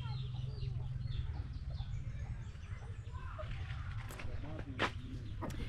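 Chickens in a chicken house give soft, scattered clucks and short calls, mostly toward the end, over a low steady background hum.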